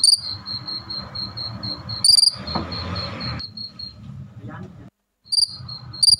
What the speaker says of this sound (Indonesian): Wih lucu guys iya jangkrik ini.